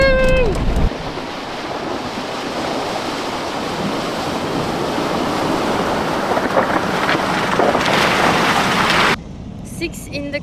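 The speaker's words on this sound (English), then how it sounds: "River crossing!" A Land Rover crosses a river in Australia's Northern Territory, pushing through water with a loud continuous rushing and splashing roar, then the noise cuts off abruptly near the end.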